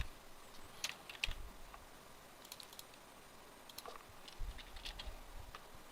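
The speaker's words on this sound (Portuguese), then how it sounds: "basicamente digitar as categorias." Quiet bursts of clicking keys on a computer keyboard as short words are typed, with brief irregular runs of taps separated by pauses, close by in a calm room.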